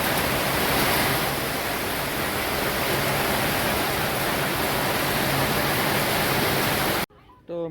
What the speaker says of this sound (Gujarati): તમે જોઈ શકો છો વરસાદ